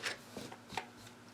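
Cards being shuffled by hand in a few quick, close, quiet riffling bursts, with no talking.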